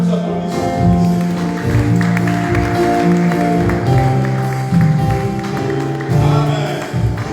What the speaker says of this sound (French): Nous applaudissons pour le Seigneur.